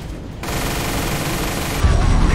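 Rapid bursts of automatic gunfire from a video game, dense and continuous, with a heavier thump of shots near the end and no voices.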